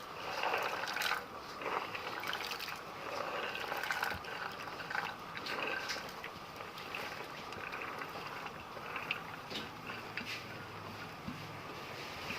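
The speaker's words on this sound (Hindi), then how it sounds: "इसमें हम मटर और गाजर डाल के इसे सिर्फ और सिर्फ 5 मिनट के लिए बॉईल करेंगे" Peas and carrots boiling in a pot of water, a faint, continuous bubbling and simmering hiss with scattered light clicks and clinks, close but quiet, with no voices.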